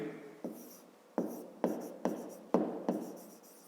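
Numbers written by hand during a fifth-grade math exercise: six or so short, quiet scratching strokes of pen on paper, close up and separated by brief pauses.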